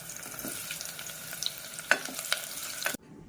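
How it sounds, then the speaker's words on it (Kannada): Onions frying in hot cold-pressed oil for an egg biryani, a continuous near sizzle with sharp crackling pops and the scrape of stirring, then cutting off abruptly into silence near the end. "ಈರುಳ್ಳಿ ಹಾಕ್ತೀನಿ ಖಾರ ಎಣ್ಣೆಗೆ"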